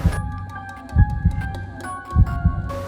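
A heartbeat sound effect thumps in a slow, steady pattern, with loud double beats over a low hum and a few faint tones, and no voices.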